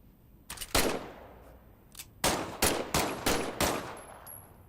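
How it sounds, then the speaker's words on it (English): Weapon test-fired in Medal of Honor: Above and Beyond, a VR World War II shooter: a couple of shots, a brief pause, then a rapid string of five or six loud, close gunshots with short echoing tails. "why don't you test fire your weapon?"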